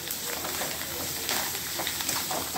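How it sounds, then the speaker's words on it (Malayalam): Fish roe dropped into a pan of fried chilli for a Kerala fish egg fry hisses with a dense, steady sizzle, close and bright, with faint stirring crackles through it. "ഇനി നമുക്കിതിലേക്ക് കഴുകി വൃത്തിയാക്കി കൊട്ടയിൽ വാരി വെച്ചിട്ടുള്ള മീൻ മുട്ട ഇട്ട് കൊടുക്കാം."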